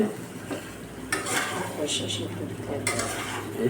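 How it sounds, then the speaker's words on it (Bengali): Chicken sautéed with roasted cumin and garam masala is stirred in a hot pan, a steady sizzle with scraping strokes of a spoon against the pan and a few louder scrapes, close and clear. "ভাজা জিরা গুঁড়া এবং গরম মশলা গুঁড়া দিয়ে কষানো মাংস একটু নাড়াচাড়া করা হবে হচ্ছে"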